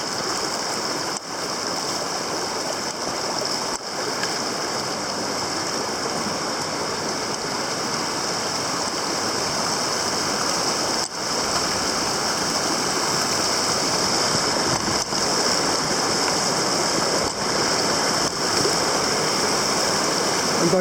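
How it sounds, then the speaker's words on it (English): A mountain stream on a backpacking trail near Clingmans Dome rushes steadily over rocks, a continuous close and full flowing-water wash with no breaks. "I'm going to try to ford this stream without getting wet."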